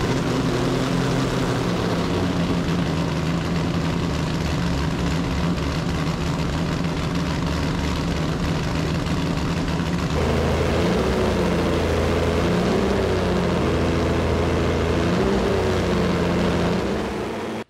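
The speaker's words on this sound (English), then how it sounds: "probably turn on the fan in here so I don't die" A workshop fan roars loudly and steadily for the whole stretch, a dense constant drone that shifts slightly in pitch partway through.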